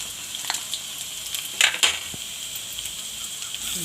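Garlic and ginger frying in hot oil in a pan for Indian-style masala pasta, a steady soft sizzle with a few brief louder crackles and stirring bursts near the middle, close and without talk.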